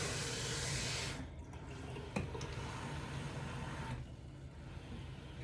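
Tap water running into a bottle, a steady broadband rush that is strong for the first second, then continues a little softer and thinner, with no talking.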